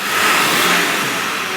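A diesel vehicle's engine is snap revved during a smog check's smoke test, giving a steady, loud, close rushing roar with no speech over it.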